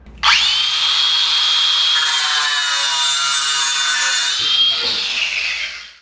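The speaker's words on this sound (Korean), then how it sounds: "대략적으로 한 이 정도 컷하면 될 것 같거든요." A corrugated flexible pipe for a water heater installation being cut, one continuous loud close grinding cut with a ringing metallic whine, lasting about five seconds and tapering off at the end.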